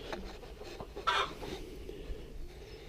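Chickens cluck and murmur in a low, steady chatter, with one brief louder squawk partway through against a busy farmyard background of a flock of about 39 birds with ducks and geese.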